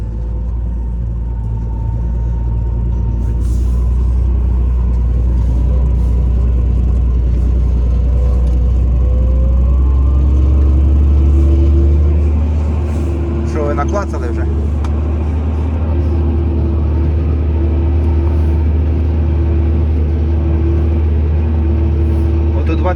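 A loud, heavy tractor engine drones steadily with deep rumble throughout while ploughing in freezing weather, with a voice talking over it.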